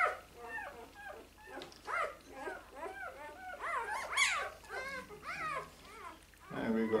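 A Berger Blanc puppy whimpers while being handled: a string of close, high, wavering whines and yelps over a person's soft speech.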